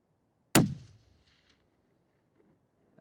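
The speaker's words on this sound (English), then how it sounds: "You squeeze that shot off." A single rifle shot rings out during a New Zealand summer hunt for bull tahr in the mountains, a sharp loud crack followed by a short fading echo, then near silence.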